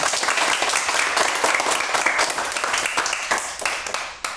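A live audience at a children's and youth celebration for Hazrat Zahra's birthday and Mother's Day applauds steadily, dense clapping that stays full and even before thinning slightly near the end.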